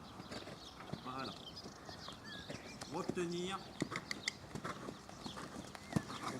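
Hooves of a horse clip-clop at a calm walk during a riding warm-up, soft and fairly close, while a rider talks quietly over the steps.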